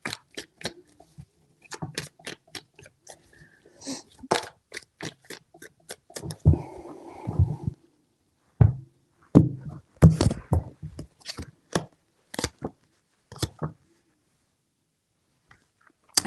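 A deck of tarot cards being shuffled by hand in three bursts, with crisp riffling and flicking broken by pauses, close and fairly quiet in an otherwise still room.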